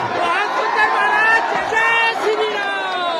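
A huge crowd gathered around a pandal at a religious discourse event in Bilaspur keeps up loud, dense chatter and babble, with many overlapping voices and the odd shout, close around and continuous.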